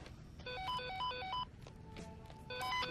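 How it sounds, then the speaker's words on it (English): An in-game phone rings in Dead Rising 2, playing a bright repeating electronic ringtone melody in two bursts separated by a short pause, loud and clear over faint background game ambience. "I'm getting a phone call from Stacy."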